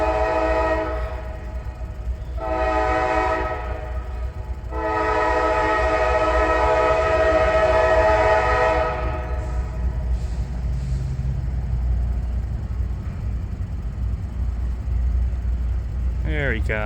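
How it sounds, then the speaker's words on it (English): A CSX freight train rolls slowly past the historic B & O railroad depot, its horn sounding in several long blasts over a steady low rumble of rail cars. "we do have a train on the way"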